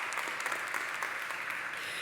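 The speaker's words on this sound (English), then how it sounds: "A round of applause, why not?" Soft, distant applause from a conference audience continues evenly through the whole moment, a faint wash of many hands clapping with no voices on top.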